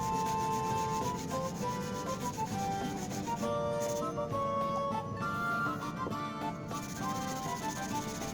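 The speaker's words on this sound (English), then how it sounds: "There will be a lot of hand sanding and hand grinding in this video" Steady back-and-forth rasping of hand sanding a steel Norwegian seax knife blade, continuous and close, with faint music underneath and no talking.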